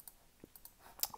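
A few faint, sharp computer mouse clicks, quiet and sparse, tapping out during work in Blender with a slightly louder click near the end.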